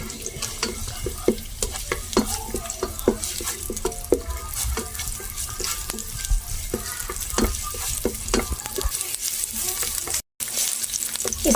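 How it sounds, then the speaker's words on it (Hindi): Chopped medium onion sautéing in oil in a home kitchen pan, a steady bright sizzle broken by frequent sharp scrapes and clicks of stirring, close and loud with no talk. "प्याज को हम लोगों ने सौते कर लेना है।"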